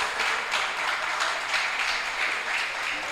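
A church congregation applauds during a communion service, a steady, full wash of many hands clapping together for a few seconds with no pause.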